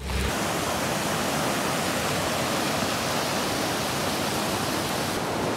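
Steady rushing water from a stream or waterfall at Camp Tralala in Cavinti, Laguna, a broad unbroken roar that stays loud and even throughout with no voices.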